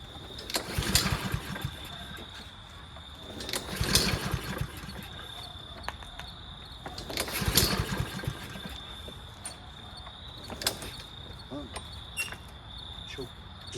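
A Toro CCR2000 Power Curve single-stage snowblower being pull-started on choke, with several separate cranking bursts about three seconds apart, each a short rough sputter and none catching into a steady run.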